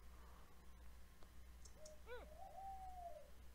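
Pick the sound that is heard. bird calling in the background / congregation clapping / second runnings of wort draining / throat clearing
bird calling in the background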